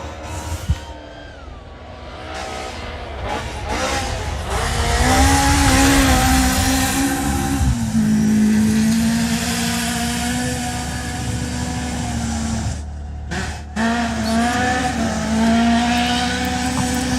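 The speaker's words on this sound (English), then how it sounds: "you can actually pick up the sound of these magnificent cars" A rally car on a sprint course at the Working Dog Rally roars past, its engine rising from a distance to a loud, sustained drone with shifting revs and pitch changes, then fading as it carries on down the stage.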